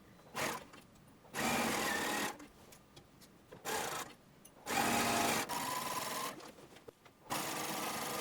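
A sewing machine top-stitches a seam on harem pants in four separate bursts of steady whirring, each lasting about a second or so, with quiet pauses between them as the fabric is repositioned.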